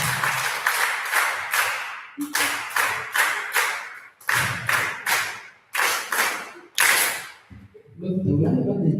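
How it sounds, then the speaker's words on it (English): An audience claps in rhythmic, coordinated bursts at a school AGM at St Henry's College Kitovu, Masaka, loud and close, with short pauses between the rounds and a voice near the end. "The way they are clapping, but it's okay"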